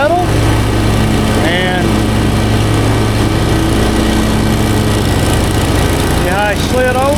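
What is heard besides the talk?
lawn mower engine running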